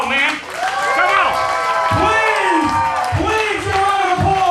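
A wrestling crowd applauding and cheering, with steady clapping and whoops filling the room beneath someone shouting into a microphone.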